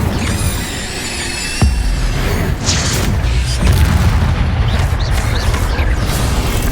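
Incendio fire spell blast in the Hogwarts Legacy video game: a sharp, loud boom near the two-second mark, followed by rumbling bursts and crackling over continuous game ambience.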